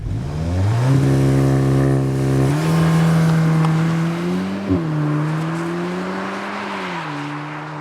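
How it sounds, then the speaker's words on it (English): A 2023 Cupra Formentor VZ3 in sport mode with traction control off launches hard from standstill toward 60, its engine note climbing loud and close through a steady rising drone, dipping briefly at a shift before pulling on. "stick it in sport mode, turn off traction control, done, slam the brake, slam the throttle"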